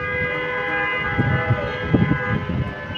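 A wailing siren drones over street traffic in Chattogram, Bangladesh, with rumbling engines and a few louder passing surges below the steady tone.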